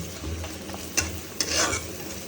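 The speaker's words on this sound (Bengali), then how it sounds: "যে পুঁটি মাছ এটাকে দিয়ে ভুনা করে নিই" Puti fish bhuna frying in a pan with ginger and garlic, stirred with a few sharp scraping strokes over a steady close sizzle.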